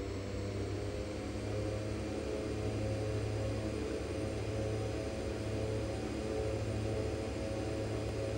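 A de Havilland Twin Otter's turboprop engines drone steadily in the X-Plane 11 flight simulator while throttling up at Lukla airport, a constant low hum with a faint rising whine and no talking.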